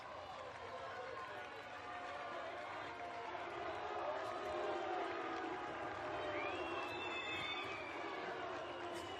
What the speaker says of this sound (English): that cheer as he got to his feet was completely genuine and in no way sarcastic